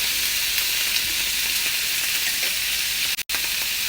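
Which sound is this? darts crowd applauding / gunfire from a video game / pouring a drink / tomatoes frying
tomatoes frying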